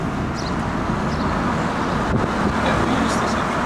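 Road traffic with buses passing along a city street, a steady loud engine and tyre rumble with wind buffeting, and a voice talking over it.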